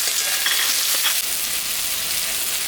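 Potatoes and eggplant fry in a pan for a rui fish curry, producing a steady, close sizzle with a few brief spatters and a soft knock of a utensil.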